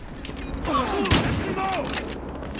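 Gunfire in the multiplayer shooter video game Battlefield Hardline, a burst of rapid shots fired from above, mid-distance and fairly loud, with faint game sounds around it.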